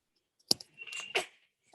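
A single sharp sneeze bursts out in a quiet online grammar class, a short intake followed by a loud explosive burst, then a faint trailing sound.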